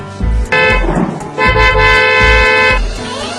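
Car horns honk over and over in a crowded Bangladeshi street with traffic and rickshaws, long sustained blasts overlapping one another above a constant loud rumble of engines.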